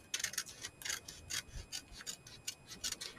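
Scissors snip through junk journal pages on a candy-box mini journal, making a quick run of about a dozen crisp, rasping cuts in an uneven rhythm, close up and fairly quiet, with no talking.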